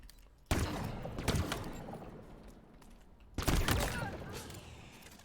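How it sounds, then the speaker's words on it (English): An alien sniper rifle fires in the video game Infinite Fracture Event, two heavy discharges about three seconds apart, each with a long, rumbling tail that fades slowly, with a voice faintly present. "This gun sucks. It's the worst version of the alien sniper rifle."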